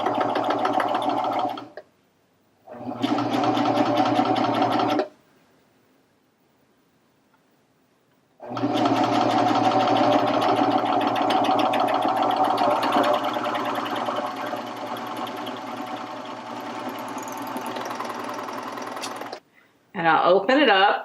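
A Baby Lock Vibrant serger stitching a 3-thread overlock seam with the standard foot and cutting guide, heard as a close, loud mechanical whir in three runs separated by pauses, the longest run lasting about eleven seconds.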